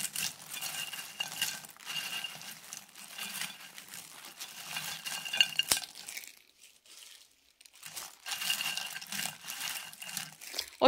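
Food sizzles and crackles as it is stirred around a coated frying pan, steady scraping and frying, with a brief quieter pause before the stirring resumes.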